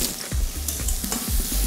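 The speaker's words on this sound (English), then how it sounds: "Once it gets a good bubble, you'll hear a good sizzle" Shrimp scampi sizzling and frying in a warm pan, a steady crackling hiss with stirring scrapes and clinks, close and fairly loud, no talking.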